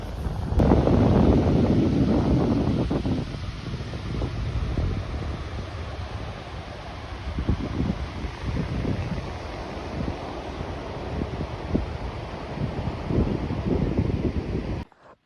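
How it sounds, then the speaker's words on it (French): Wind buffets the microphone beside rough sea waves in an island bay on Maria Island, a steady loud rush with gusting swells and no talking. "Ici, il y a du vent, la mer est beaucoup plus agitée."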